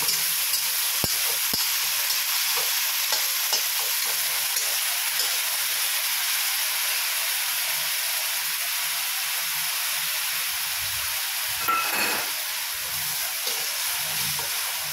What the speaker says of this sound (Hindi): क्या अच्छी तड़के की आवाज़ आ रही है